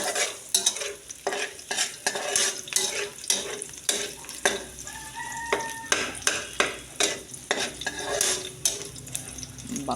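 Garlic and onion fry in hot cooking oil as a utensil stirs them in the pan, producing a steady sizzle broken by repeated scraping and clinking strokes, close up and with no talking.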